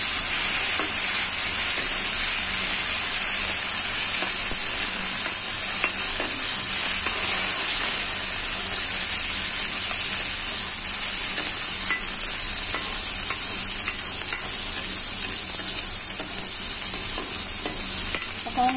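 Tomato fries in hot oil while being stirred, producing a continuous, even sizzle with soft scraping from the stirring and no talking.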